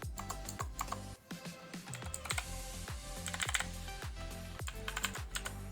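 Mechanical keyboard clicks from a metal-bodied RedGear Shadow Blade, with crisp, close keystrokes tapping in quick irregular bursts and some brief pauses, heard alone.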